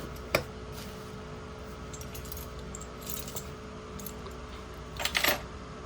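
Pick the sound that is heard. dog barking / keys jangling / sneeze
keys jangling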